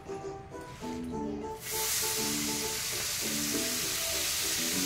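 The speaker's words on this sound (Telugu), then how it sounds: "కొంచెం నూనె పోసుకొని ఇంత పుదీనా గోలించుకుంటున్నా." Mint leaves frying in a little oil, a steady close hiss and sizzle that swells and stays loud, with music playing over it.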